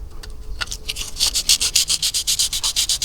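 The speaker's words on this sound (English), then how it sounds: "240 grit, just to sand back where I'm going to put the filler" Hand sanding of blistered paint on a VT Commodore car body with 240 grit sandpaper, a steady run of rhythmic back-and-forth scratchy strokes, close and loud, growing faster and more regular as it goes.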